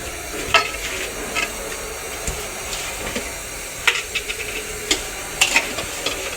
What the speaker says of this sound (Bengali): এখন আমি এটার মধ্যে দিয়ে দিব দুধ